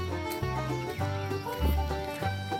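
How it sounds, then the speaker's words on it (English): Chickens and guinea fowl on a homestead cluck and call in short, repeated bursts, fairly near and moderately loud against a quiet outdoor background. "Chickens and the guineas, they're doing their thing."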